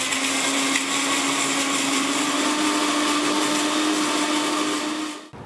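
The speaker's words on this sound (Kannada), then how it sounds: "ಈಗ ನೈಸಾಗೆ ರುಬ್ಬಬೇಕು" A kitchen mixer grinder whirs loudly as it grinds garlic, cumin and black pepper for a pepper sambar, a steady high whine that winds down and stops at the very end.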